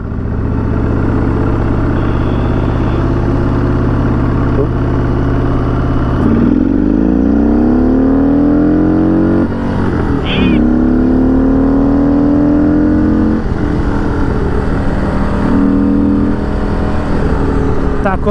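A Harley-Davidson motorcycle engine revs up and down repeatedly, pitch sweeping higher with each throttle twist, loud and close, with people talking over it.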